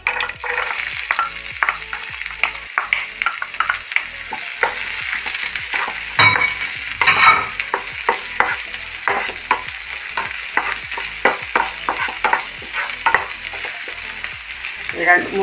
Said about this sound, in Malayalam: പിന്നെ കുറച്ച് സവാള ഇടാം.